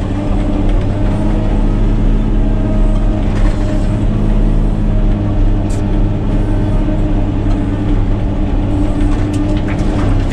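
A Caterpillar 120K motor grader driving through a river, its diesel engine producing a loud, unbroken low rumble that stays close and steady for the whole stretch, with no voices.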